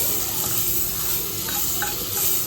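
Butter melts in a pan over low heat with a steady, even sizzle and faint bubbling pops, close and constant throughout, with no voices.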